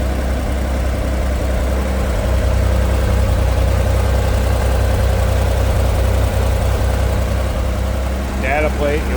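A 1962 Chevrolet Corvair Monza Spyder convertible's engine idles steadily, a continuous low drone that holds at one level for the whole stretch, with a brief faint voice-like sound near the end.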